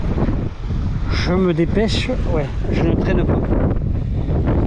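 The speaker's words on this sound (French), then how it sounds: "de toute façon il y a trop de vent, donc c'est pas la peine que je parle" Strong wind buffets the microphone on a beach in Tarifa, a steady low rumble running the whole time beneath a voice talking in French.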